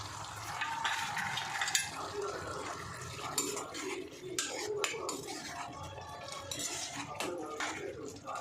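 Coriander and mint being stirred into a simmering moong dal curry in a pot, with faint bubbling and light clinks and scrapes of a spoon against the metal.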